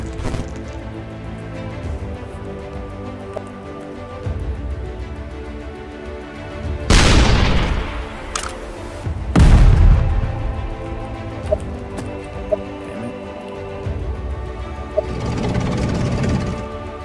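Tank cannon shots and explosions from the ShellShock Live video game ring out as two loud, booming blasts a few seconds apart. Between them, a steady tonal game backdrop plays with a few lighter pops.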